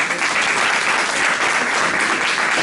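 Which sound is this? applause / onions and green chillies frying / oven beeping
applause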